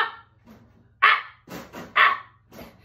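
A dog barks indoors in a few sharp, fairly close barks, spaced in an irregular rhythm over a low background hum.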